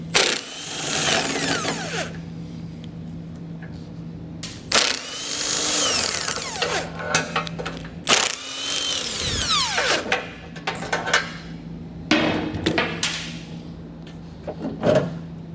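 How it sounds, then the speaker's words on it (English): Bumper beam nuts on a 2020 Jeep are worked loose with a 13mm socket: bursts of power-tool whirring alternate with metallic clicks and clunks of the socket and parts, close up and without speech. "So we're going to use a 13mm socket so we can remove those."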